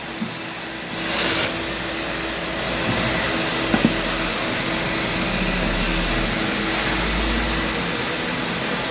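A wet vacuum sucks pooled water out of the soaked rear floor of a Renault Korea SM5, with a loud, steady motor roar and slurping surges close by that continue for the whole stretch.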